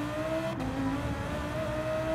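A Lamborghini engine in Gran Turismo 7 holds a steady, loud drone with a sustained tone throughout, sounding like a held throttle through a corner rather than sharp revs.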